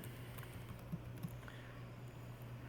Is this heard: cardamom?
no